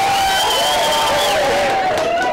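Team crew clapping and cheering together during a practice run at a Destination Imagination state event, a loud, continuous crowd roar with sustained shouted voices layered over steady applause.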